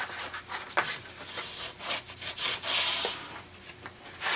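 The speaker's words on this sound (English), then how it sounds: "Just gonna burnish it down." Binding tape being burnished down by hand during a hidden binding job, heard as close, soft rubbing strokes in uneven passes with a few sharper scrapes, no talking.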